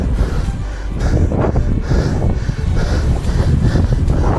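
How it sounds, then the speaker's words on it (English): Steady, loud wind roar buffeting the microphone while cycling straight into a strong headwind, continuous broadband rumble with gusty swells and no talk. "I'm going directly into the wind."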